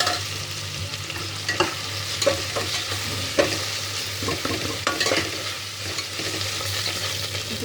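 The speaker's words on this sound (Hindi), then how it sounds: "अदरक लहसुन को अच्छी तरह भून लेना चाहिए" Ginger, garlic and a little salt frying with reddened onions in a pan for a kheema aloo methi salan. A steady, close sizzle runs under repeated scraping stirs, with no talk.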